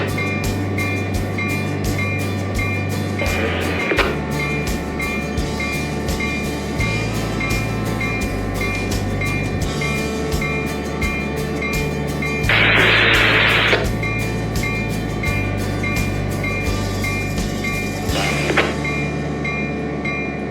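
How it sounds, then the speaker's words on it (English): In the Trainz 22 railway simulator, a CSX manifest freight train rolls past with a steady, loud rumble of wheels and cars, broken by a few brief louder bursts over about twenty seconds, with no talking. "Now that this manifest train has cleared the local"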